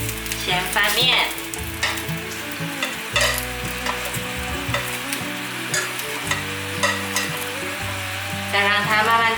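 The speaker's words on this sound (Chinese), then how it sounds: "用中小火慢慢的煎，我觉得煎5条太急了，所以先煎4条" Vegetable rolls frying slowly in a pan over medium-low heat, with a steady sizzle and occasional stirring and scraping sounds, close and clear with no talking.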